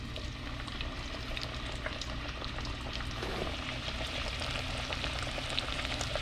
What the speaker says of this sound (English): So we're going to take one of these fillets right in the hot oil.